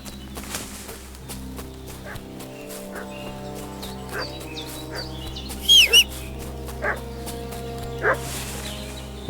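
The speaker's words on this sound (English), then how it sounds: "What's that dog making such a fuss about?" A dog barks in the medieval village of the video game Kingdom Come: Deliverance II: a few short, distant yaps break through a steady hum of ambient game music and background tones.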